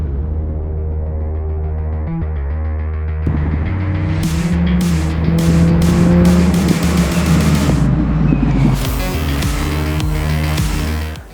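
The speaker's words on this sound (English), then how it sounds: "I'm racing British Ford Formula 4." A British Ford Formula 4 race car engine revving hard and shifting through rising pitches, loud and near, with sharp bursts and a brief tire squeal before fading out.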